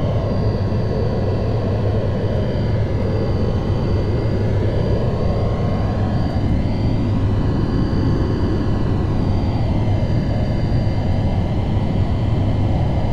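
Four jet engines of a Boeing 707 run up to takeoff power in a flight simulator, a loud, steady roar with rising whining tones sweeping upward as the aircraft gathers speed.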